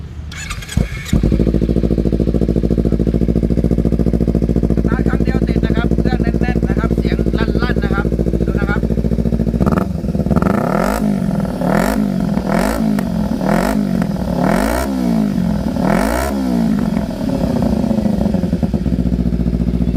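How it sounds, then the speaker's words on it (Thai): A 2016 Kawasaki Z250 motorcycle engine idles with a steady low rumble, then is revved repeatedly in sharp rising and falling bursts close by, while someone speaks over parts of it. "โอเคทีนี้เรามาลองฟังเสียงเครื่องยนต์กันดู"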